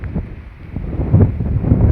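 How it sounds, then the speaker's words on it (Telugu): Gusty wind buffeting the microphone in low rumbling bursts, close and fairly loud, with no voices. "చూస్తుంటే ఈ గాల్లో చల్లటి గాలి వస్తుంది."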